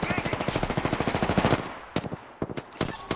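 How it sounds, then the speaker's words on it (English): Rapid automatic gunfire from enemies in a first-person shooter game, a fast burst of about twenty shots over a second and a half, then a few isolated single shots, loud and close. "They're shooting at me."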